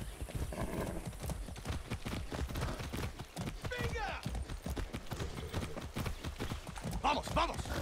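Horse hooves clip-clopping in the video game Far Cry 6, a steady rhythmic trot close by, with occasional whinnies and game speech over it.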